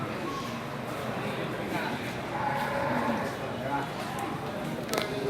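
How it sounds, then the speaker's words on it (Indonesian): Banteng-breed cattle at the Sibreh livestock market in Aceh low now and then amid the constant din of a busy crowd, with people talking all around throughout. "Ini juga ras sapi banteng."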